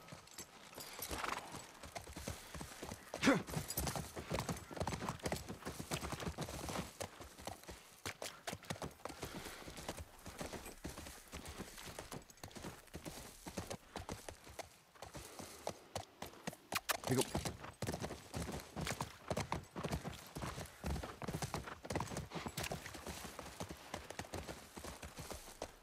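Horse hooves clip-clop steadily while riding in the video game The Last of Us Part I, a continuous rhythmic trot heard quietly throughout, with voices talking over parts of it.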